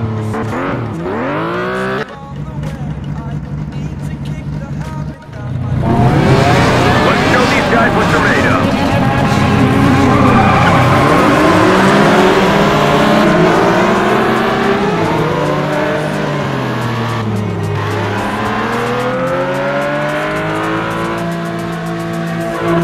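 Race cars in the GT Racing 2 video game roar loudly and continuously, engines revving up and shifting with rising and falling pitch, a brief lull before the pack takes off, and a voice talking briefly.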